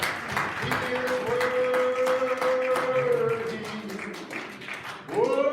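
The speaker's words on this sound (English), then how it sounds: "Stand to your feet and give Jesus a big hand clap." A church congregation stands and claps for Jesus during a worship service: a dense run of sharp hand claps under a sustained sung or organ tone and voices.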